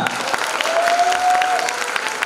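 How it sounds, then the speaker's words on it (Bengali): A crowd of students claps steadily at a university orientation, dense applause rising slightly and holding for a couple of seconds. "একটা হাততালি হবে না?"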